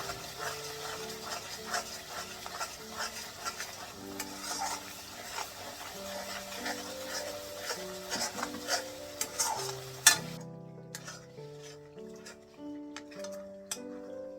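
Prepared chole masala is stirred and fried in a pan, a soft sizzle under repeated scraping and tapping strokes, with background music running throughout.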